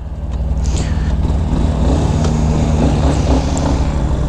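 Loud, steady low engine rumble of a 2019 Yamaha XTZ 250 Lander trail motorcycle idling nearby, with a faint higher whine briefly rising early on.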